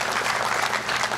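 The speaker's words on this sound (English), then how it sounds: "Applause, applause." Audience applause at a university undergraduate commencement, a brief, continuous burst of clapping from a large crowd.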